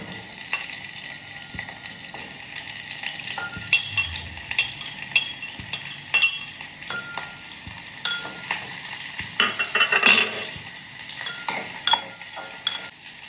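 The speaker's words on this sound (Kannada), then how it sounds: "ಓಕೆ, ಎಣ್ಣೆ ಕಾಯಿದೆ. ಈರುಳ್ಳಿ ಹಾಕ್ಕೊಳ್ತಾ ಇದ್ದೀನಿ" Onions frying in hot oil in a pan for a mutton kaima curry, a steady sizzle with irregular clinks and scrapes of a utensil stirring, close and moderately loud, with no talk.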